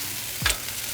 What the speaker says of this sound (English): Little Jack Daniels and the onions for the sandwich.